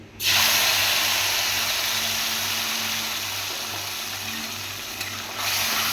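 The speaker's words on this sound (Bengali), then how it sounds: "এবার আমি মশলাটা কড়াইতে দিয়ে দেবো।" Ground spice paste for matar paneer hits a hot wok (kadai) with a sudden loud sizzle that holds as a steady hiss and slowly eases, beneath a low constant hum.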